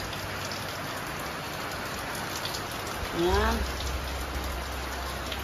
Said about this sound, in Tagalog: It's raining, man. It's raining, man, guys.